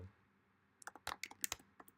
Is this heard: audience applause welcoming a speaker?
no